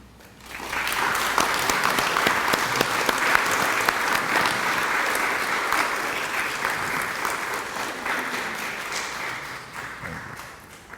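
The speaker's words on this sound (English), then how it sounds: "maybe I should ask all the children to stand up, that we can all give them a round of applause" An audience at a childhood cancer awareness launch in Fiji gives a sustained round of applause for the children, swelling in after a quiet start and holding steady before tapering near the end.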